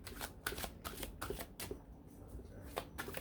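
Tarot cards are shuffled close by in a quiet room, a steady riffling patter of card edges broken by a few brief pauses.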